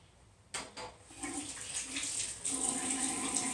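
Tap water running into a sink while rinsing after a safety razor shave, starting with a few splashes and then a steady close gush that grows louder.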